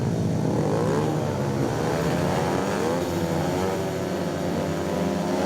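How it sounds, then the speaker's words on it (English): Several speedway motorcycles rev at the start line of a Championship heat between Plymouth and Glasgow, a loud, continuous, rising engine roar of multiple bikes held steady throughout with no talk over it. "Bikes are revving away."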